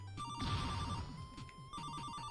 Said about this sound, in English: She pulls out a Game & Watch bell and starts ringing it. It also sounds like a telephone